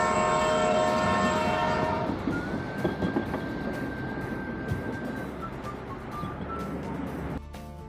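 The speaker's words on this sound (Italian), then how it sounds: "passa anche il treno, cosa vuoi di più?" A train passes near a new cycle and pedestrian path in the mountains of Val Camonica by Lake Iseo, opening with a loud horn blast, then a steady rumble and rattle of wagons rolling by before fading.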